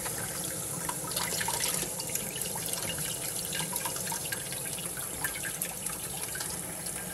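Tap water runs steadily into a sink while foraged produce is rinsed, a quiet continuous splashing stream with small drips and patters throughout.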